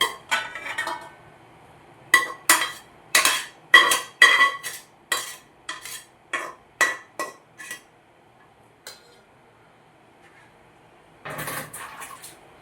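A pressure cooker is lifted and handled in a home kitchen, giving a run of sharp, close metallic clanks and knocks at an irregular pace, then a pause, then a final cluster of rattling clinks.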